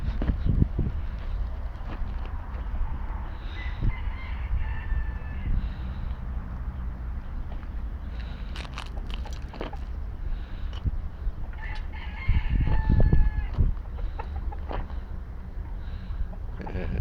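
A rooster clucks and makes crowing calls at several points against steady wind noise outdoors, with louder bursts around the middle and near the end.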